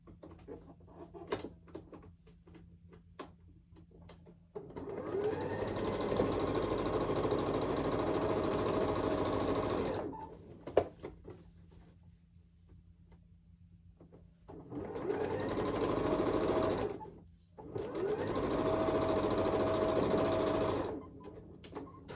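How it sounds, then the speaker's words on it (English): A sewing machine stitching quarter-inch seams on a quilt block runs in three steady whirring bursts of several seconds each, close and clear, separated by brief pauses of handling. "And we're going to sew a 1/4 inch on both sides."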